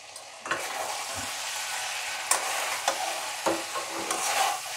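Yardlong beans and tomato fry in a pan, a steady sizzle broken by several sharp scrapes and clacks as a utensil stirs the vegetables at irregular intervals, close and fairly quiet, with no speech.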